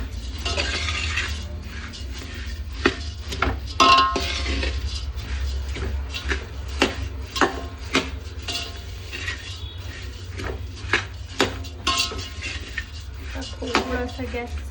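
Puffed rice tossed with spice mix in a metal pan, giving a continuous dry rustle with scattered light clinks and scrapes over a low steady hum.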